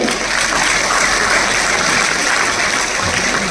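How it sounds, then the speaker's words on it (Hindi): Audience applause at a Hindi comedic poetry recital, loud continuous clapping from a large crowd, dense and even with no break throughout. "जरा एक बार ढंग से ताली बजाइए आप।"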